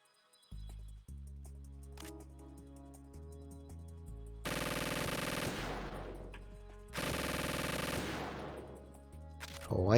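Bursts of gunfire from the video game Metal Gear Solid 2 come in two long sustained volleys over game music and sound effects, loud and close.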